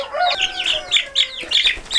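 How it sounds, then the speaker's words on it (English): Orloff chick peeping in a brooder among newly hatched ducklings, a quick run of high chirps and cheeps close by, with no talk. "in amongst a bunch of baby ducklings that just hatched was this little Orloff chick"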